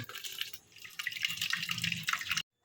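Tap water runs and splashes steadily while vegetables are washed in a sink for wheatgrass juice, close and fairly loud, then cuts off abruptly.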